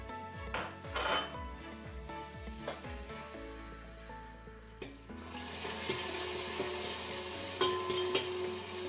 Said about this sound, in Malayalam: നെയ്യ് ചൂടായിട്ടുണ്ട്. നമുക്ക് നമ്മൾ എടുത്തു വെച്ചിരിക്കുന്ന നട്ട്സ് ഇട്ട് കൊടുക്കാം.